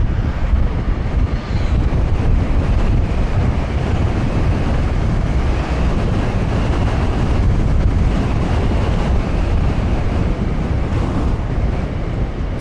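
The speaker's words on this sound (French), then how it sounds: "Ah ouais, il y a pas mal de vent par contre" Strong, steady wind buffets the microphone while riding a Dualtron Victor Limited electric scooter, a loud continuous low roar with no gaps for the whole stretch.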